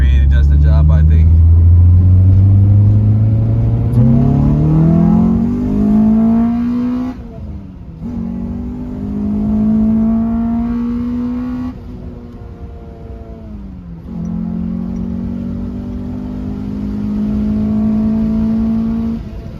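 A Honda Civic with a K24 swap and manual 6-speed conversion accelerates hard, its engine note climbing in loud rising sweeps with short breaks between gear shifts, up close from inside the car.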